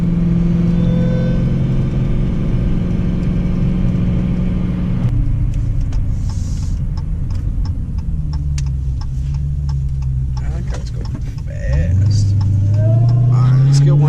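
A 2017 Dodge Challenger Hellcat drives by with a deep, steady engine rumble that drops back and then swells into a louder rev near the end, while people talk over it.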